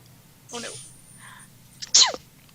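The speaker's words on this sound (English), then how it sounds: "my sneezes are tiny and adorable" A person sneezes twice while streaming Minecraft: a soft, muffled first sneeze, then a sharper, louder second one about a second and a half later, close to the microphone in an otherwise quiet room.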